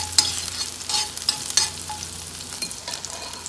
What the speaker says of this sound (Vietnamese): phi cho hành tím nó thơm lên nha các bạn